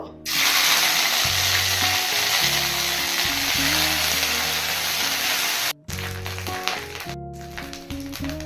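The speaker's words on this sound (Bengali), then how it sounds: "এবার তেলের মধ্যে দুটো তেজপাতা ফোড়ন দিলাম দিয়ে দেবো হাফ চামচ রাঁধুনি রাঁধুনি তিরিশ সেকেন্ড ভেজে নেব" Bay leaves, radhuni and ginger paste frying in hot oil for Bengali shukto: a loud, steady sizzle that fills the whole stretch, cutting out briefly twice, with a tonal backing layered underneath.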